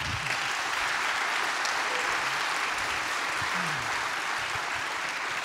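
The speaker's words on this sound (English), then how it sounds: "You already gave them a round of applause, but let's do it again." Steady, sustained applause from the audience at a 2018 Chilliwack mayoral debate, an even wash of clapping that holds at constant strength for several seconds with no talking over it.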